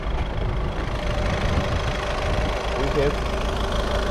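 Volkswagen Polo 1.6 TDI diesel engine, 90 HP, idling with the hood open, a steady low rumble throughout under a man's speech.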